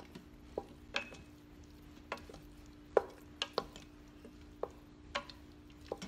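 Broccoli cheddar risotto being stirred in a pot, a spoon giving scattered soft clicks and scrapes against the pan at an uneven pace, fairly close but quiet, with a faint steady hum beneath.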